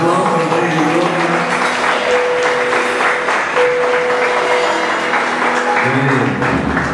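A church congregation at a Sunday service applauding, a loud sustained wash of clapping throughout, with music and voices faintly underneath.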